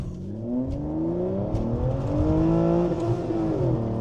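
A car engine revs hard and climbs in pitch during a launch-control start, loud and close, with a steady rising whine throughout.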